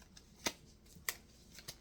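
A single key is handled from a bunch of keys, giving three faint, sharp metallic clicks spaced apart against a quiet background.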